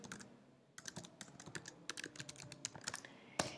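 Fast, irregular keystrokes on a computer keyboard, close and fairly quiet, clicking in short bursts with one sharper tap near the end.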